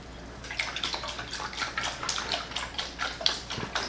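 Sea salt goes into water to make brine for a fermented hot sauce, a rhythmic series of close, brisk scraping and splashing pulses, roughly three per second, over a faint low hum.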